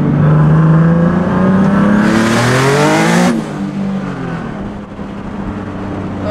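A Nissan 350Z/G35 under hard acceleration, its engine revving loudly and climbing in pitch before a sharp upshift with a brief burst of hiss, then settling into a lower steady drone, close and dominant throughout.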